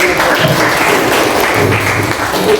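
Steady applause from a group gathered for a classroom discussion session fills the space, a dense continuous wash of clapping at close range with no talking over it.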